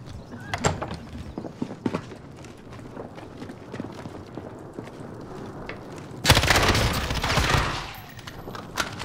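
Gunfire in the shooter game Call of Duty Warzone, with scattered single shots and footstep-like thuds, then a sudden loud sustained burst of automatic fire near the end.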